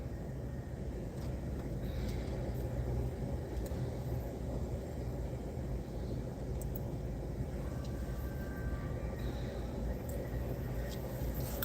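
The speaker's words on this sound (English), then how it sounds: "Caught up in a bunch of traffic here." A car drives through city traffic, giving a continuous low road rumble and engine drone from inside the vehicle, steady throughout with no talking.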